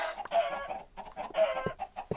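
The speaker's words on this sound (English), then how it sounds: "Are you killing all the chickens down there?" Minecraft chickens cluck repeatedly in short, choppy bursts, loud and close, with no talking.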